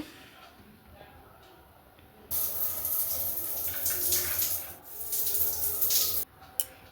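Water from a bathroom tap gushing steadily and close for several seconds during a bath, starting abruptly after a quiet stretch and cutting off near the end.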